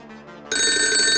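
A telephone rings at a police station, a loud, bright electronic ring that starts suddenly after a quiet tonal lead-in and holds steady to the end.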